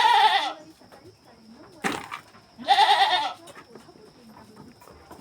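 Goats being fed polish bran mixed with water bleat loudly nearby, two clear cries a couple of seconds apart with a short thump between them, then quieter rustling.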